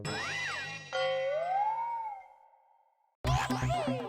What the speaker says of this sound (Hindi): ये कॉल वेटिंग पे पोपटलाल का फोन है भाई.